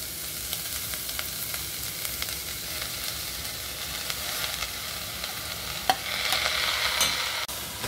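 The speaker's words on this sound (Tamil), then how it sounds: "சின்ன வெங்காயம் வதங்கி இருக்கு இப்போ இந்த கீரையை சேர்த்துக்குவோம்" Manathakkali greens are stirred into a frying pan with sautéed shallots, giving a steady soft sizzle with light scraping and occasional utensil knocks.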